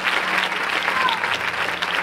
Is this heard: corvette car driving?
no